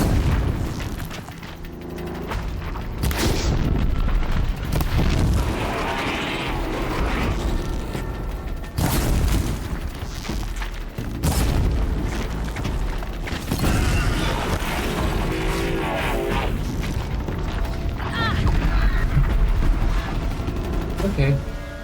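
Repeated booms and blasts from exploding targets in Horizon Zero Dawn, loud and dense over a busy game soundscape with crackling fire, with sharp bursts recurring throughout.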